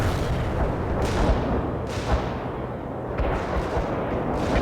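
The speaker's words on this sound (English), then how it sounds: "Light artillery heading for the position" A light artillery barrage in the World in Conflict strategy game sounds as repeated deep booms rolling over a dense rumbling background, several distinct heavy impacts spaced about a second apart.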